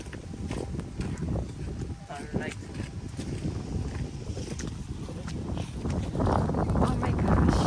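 Strong wind buffets the microphone during a snowstorm on the streets of Kyoto, a rough, gusty roar that swells toward the end, with people talking through it.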